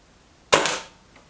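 A single sharp crack from a Kral Mortal air rifle fired at a target, close and loud, with a short fading tail and a faint tick of the pellet striking moments later, no talk.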